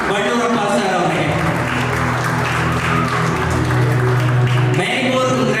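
Audience applause at a state award ceremony honouring an awardee, steady loud clapping from a large crowd throughout, with a brief speaking voice mixed in.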